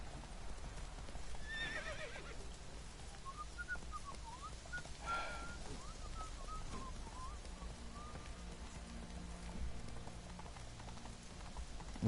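Roach, the horse in The Witcher 3, gallops with rapid, continuous hoofbeats. A whinny, whistling and light rain sound over the hooves, all quiet and ambient.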